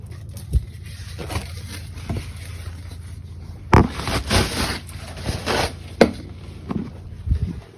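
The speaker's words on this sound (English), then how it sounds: "wipe the frying pan with a paper towel like this" A paper towel rubs and scrapes around the inside of a used frying pan in a home kitchen after cooking schnitzels, giving irregular dry swishes and scuffs over a low steady hum.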